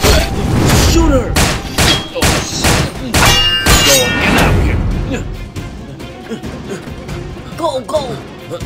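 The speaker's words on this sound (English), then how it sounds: "Keep shooting!" Rapid bursts of gunfire during a chase, loud and close with clanging, crashing impacts, while agitated voices shout over the shots.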